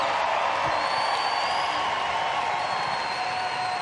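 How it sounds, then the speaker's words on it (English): A crowd at the Rogue Invitational fitness competition applauds and cheers after a women's individual event win, a steady wash of clapping with whoops and shouts mixed in. "The crowd is giving it up for you."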